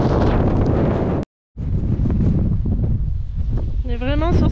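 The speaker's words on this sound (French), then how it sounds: "il y a trop de vent." Strong wind roars steadily across the microphone on an exposed clifftop in Lofoten, loud and gusty, with a brief cutout partway through and a short voiced sound near the end.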